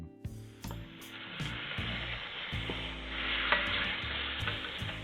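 Zucchini and squash sizzling in a hot wok, a steady bright frying hiss with repeated wooden stirring knocks and scrapes, close and clear with no voices.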